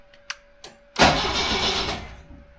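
A 1976 BMW 2002 with a push-button start cranks and fires up, a loud broadband engine roar that holds steady for over a second before easing off, preceded by a couple of faint clicks.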